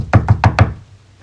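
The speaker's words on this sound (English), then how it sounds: "they keep banging on the door" Four firm, evenly spaced knocks on a door, close and loud, followed by quiet.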